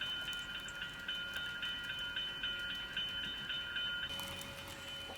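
Passenger train The Canadian departing eastward toward Toronto in Deadwood, a steady rolling rumble with faint ringing and squealing tones, moderate in level and continuing throughout without any talk.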